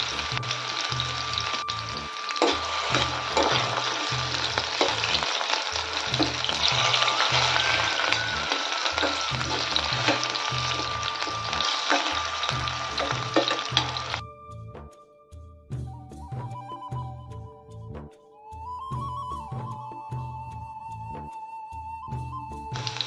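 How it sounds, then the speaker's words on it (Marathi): Chopped potatoes frying in hot oil in a pan for a spicy aloo palak dish, a continuous loud sizzle with rhythmic stirring scrapes, then quieter bubbling with faint clinks toward the end. "तेल छान तापलंय त्यात टाकायचं आपण चिरलेला बटाटा घेतलाय थोडं तेल याला छान आपल्याला भाजून घ्यायचे तळून घ्यायचे आहे"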